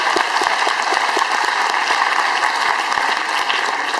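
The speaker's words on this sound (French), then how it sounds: "On peut l'applaudir parce qu'il se tape les marches" An indoor conference audience claps steadily for a man climbing a flight of stairs, a dense, loud, even wash of applause that holds throughout with no talking.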